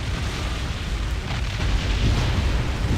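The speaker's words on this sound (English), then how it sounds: "Big barrages of shots going down." Massed weapons fire from a space battle in the strategy game Distant Worlds Universe (Shakturi) makes a dense, continuous rumbling roar with no distinct single shots, steady throughout and swelling slightly louder toward the end.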